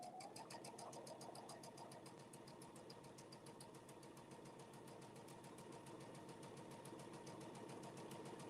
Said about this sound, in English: and now it's going to start sewing.